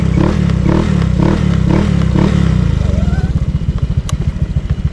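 A motorcycle engine with a stock ECU, no remap, runs loud and close, its pulsing idle steady at first, then shifting to a slower, choppier beat, with faint clatter.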